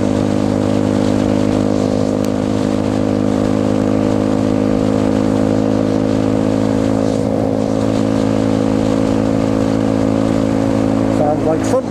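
A motorcycle engine drones steadily throughout, with constant wind and road roar from riding at speed.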